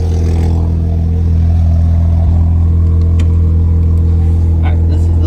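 A 2018-2022 Audi S4 with a louder exhaust modification idles and revs loudly up close, a steady deep drone with brief rises in the exhaust note.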